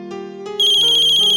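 An electronic phone ringtone plays a bright melodic pattern, starting softer then jumping louder with a repeating high warbling tone, close and clear, no talking.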